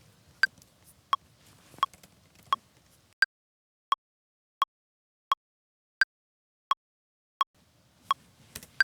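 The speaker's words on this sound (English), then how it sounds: "not only do I not love the sounds of Ableton's click track" Ableton's stock metronome click track plays sharp, evenly spaced clicks at a steady tempo, about a dozen crisp ticks over quiet background with faint noise at the start and end.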